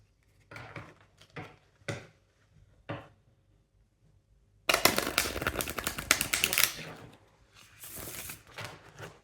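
A tarot card deck is handled in short clicking bursts, then riffled in a longer, louder shuffle with a final flurry of card snaps, close and without talk.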